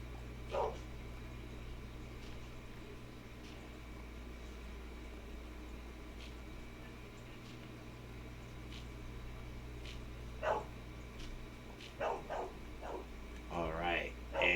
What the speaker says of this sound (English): it sounds like somebody's playing with the dog